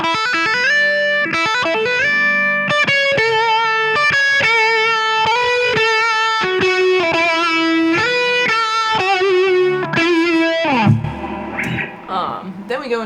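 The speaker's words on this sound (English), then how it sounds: "Up to speed, sounds like this." Full-speed electric guitar solo from a song, a quick run of distorted, effects-laden melodic notes with slides and bends, close and steady, closing on a short scratchy flourish.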